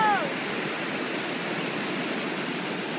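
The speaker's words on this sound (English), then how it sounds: "We are at Black River looking at some of the waterfalls in the area of Pottawatomie and Gorge Falls." Waterfalls on the Black River at Potawatomi and Gorge Falls give off a steady, dense roar of rushing water that fills the air evenly and never lets up.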